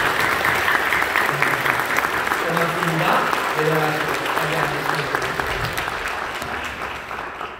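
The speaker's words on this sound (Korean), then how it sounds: "뜨겁게 기쁨과 또 감사함으로 박수로 환영해 주시면 감사하겠습니다." A church congregation claps warmly at a deacon appointment and elder ordination thanksgiving service, a sustained full-room applause that fades slightly toward the end, with a voice and some music heard beneath it.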